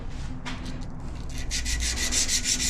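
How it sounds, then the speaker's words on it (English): Steady rhythmic rasping of 150-grit sandpaper with WD-40 on Damascus steel, strokes growing quicker and brighter toward the end, close and moderately loud. "just gonna start sanding it back"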